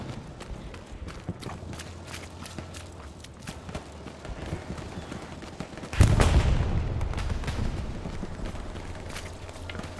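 Gunfire crackles through a Hell Let Loose battle on PS5, with scattered sharp shots near and far over a rumbling background. A heavier surge of noise comes partway through.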